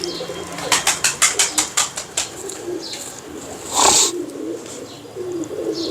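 Pigeons at a loft around iftar time, with a burst of rapid wing-flapping followed by softer cooing and rustling, fairly close and loud against a busy background.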